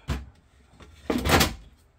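A GE refrigerator tray or drawer slides into place and clips in with a short plastic thump, then a brief quiet pause and a second louder sliding scrape, close up and with no voice.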